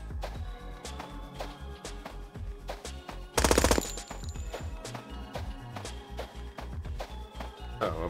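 Gunfire in a Zero Sievert-inspired extraction shooter game, with repeated loud close shots in an uneven rhythm and a brief dense automatic burst midway.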